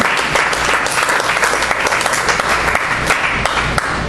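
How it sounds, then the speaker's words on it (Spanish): A church congregation applauds during an afternoon sermon, a loud, dense and steady roar of many hands clapping together that fills the room for several seconds without talk. "¿Cuántos pueden darle un aplauso a Cristo en esta tarde?"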